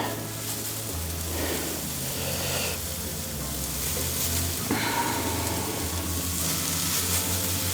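Grilled vegetables sizzling on a hot plate for a wrap, a steady faint hiss and crackle with a low hum beneath, continuing evenly throughout.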